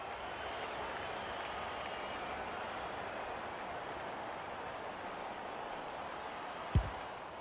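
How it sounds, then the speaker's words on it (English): A large, distant crowd in an AFL 26 video game roars in a steady broad wash of noise after a goal, with one sharp thump near the end. "The crowd noise tells you all you need to know."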